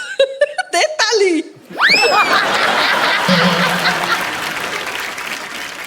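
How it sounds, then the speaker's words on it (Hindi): A studio audience on The Kapil Sharma Show, a comedy TV show, breaks into sustained clapping mixed with laughter, following a short stretch of speech and giggling at the start. "दे ताली।"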